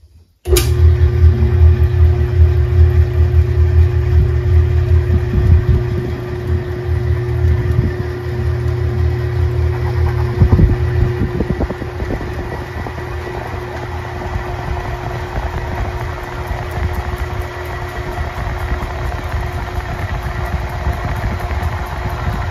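A honey extractor spins its frames with a steady, loud mechanical whir and low rumble. The drone holds for the whole stretch with a brief rattling surge partway through.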